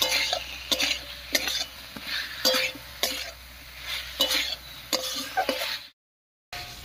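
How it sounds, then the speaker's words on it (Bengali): Fried pumpkin pieces sautéed with spices in a pan, a steady sizzle broken by regular scraping stirs about once a second, close and fairly quiet, ending in a brief silence. "এবারে ভেজে রাখা মিষ্টি কুমড়োগুলো দেব, মশলার সঙ্গে একটু কষিয়ে নেব।"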